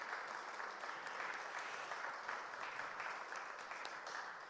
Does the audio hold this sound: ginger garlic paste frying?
no